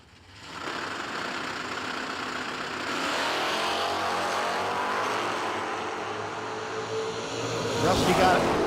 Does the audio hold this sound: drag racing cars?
yes